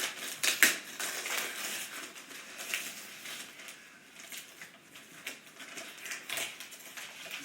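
A wrapped gift package is torn open close by, giving a steady rustling, crinkling sound of paper or plastic with a few sharper crackles.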